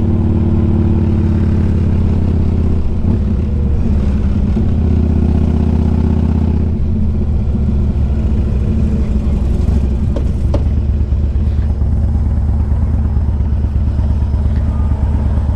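A 2003 Harley-Davidson Electra Glide Ultra motorcycle being ridden, its engine a loud, steady, close low rumble with some shifts in revving and wind noise throughout.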